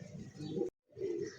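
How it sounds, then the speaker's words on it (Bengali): White pigeons with feathered feet coo softly nearby in low, throaty bursts, broken by a brief pause, with no talking. "দেখছেন দুই দুটা কবুতর কিন্তু সাদা ধবধবে"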